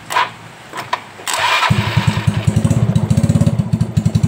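A Yamaha Mio Soul scooter with a starter fault gives a few clicks and a short whir, then the engine cranks in a fast, loud, steady rhythmic chug up close.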